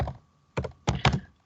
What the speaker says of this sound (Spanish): voy a escribirla con el teclado